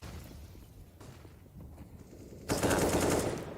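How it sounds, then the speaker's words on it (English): Gunfire rattles through a Counter-Strike match on the Nuke map, scattered shots and bullet impacts early on, then a loud sustained burst of automatic fire in the final second. "Oh, bullets whiz past his ear."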